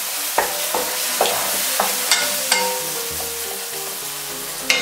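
Chopped onion and tomato cooking in a pan for a salt-cod rice dish, giving a steady frying hiss punctuated by about eight sharp utensil knocks and scrapes against the pan, close and fairly loud, with no talk.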